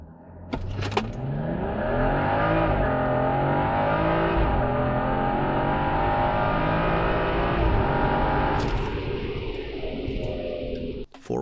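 A BMW M235i engine roars hard as it launches and accelerates in cold weather, its pitch climbing steeply with brief dips at each gear change. The sound is loud and close, with no talking.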